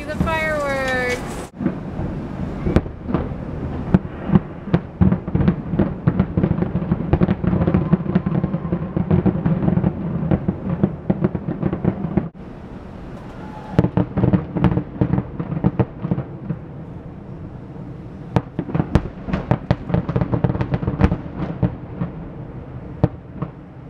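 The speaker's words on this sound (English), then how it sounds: "You can see the fireworks." Dense crackling and popping bursts of New Year's fireworks seen from a lanai, some distant booms, with people talking and exclaiming throughout.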